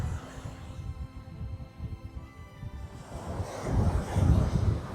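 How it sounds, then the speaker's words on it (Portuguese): Strong wind on a beach in southern Santa Catarina, Brazil, buffets the microphone in a continuous low roar, gusting louder toward the end, with surf rumbling faintly underneath. "Muito vento, cara."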